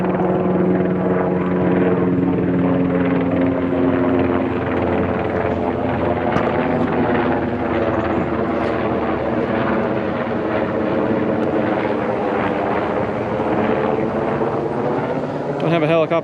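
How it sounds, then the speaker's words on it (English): A loud helicopter roars close overhead, its rotor thrum dominating the whole stretch. "A helicopter flying over."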